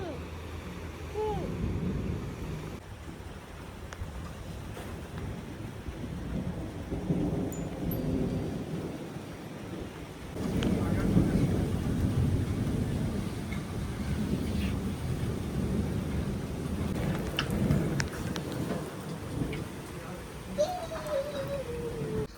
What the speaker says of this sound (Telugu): థండర్ స్టార్మ్స్ వస్తున్నాయి.